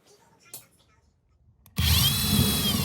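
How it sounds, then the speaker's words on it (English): A power drill bores through garage drywall, starting abruptly after a near-silent stretch with a faint knock, then whining loud and steady at close range until the end. "Having carefully measured, I'm now drilling through the drywall."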